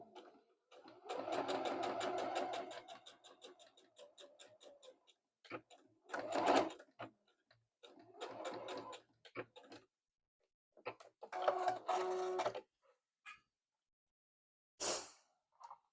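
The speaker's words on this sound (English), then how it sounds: "I'm only stitching to here." A domestic sewing machine stitches fabric for a handmade gift in short bursts of rapid mechanical whirring, with quiet pauses between runs and a few brief clicks and handling noises.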